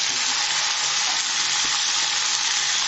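Brinjal frying in hot spice masala, a loud continuous sizzle and crackle with faint stirring, no voices.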